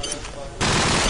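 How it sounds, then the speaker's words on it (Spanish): Rapid automatic gunfire from a Call of Duty 4 match in a competitive tournament final, bursting in loudly halfway through after a quieter stretch and continuing as a dense, sustained volley. "Muy bien esos tiros que acaba de hacer Sebeor, excelente jugador."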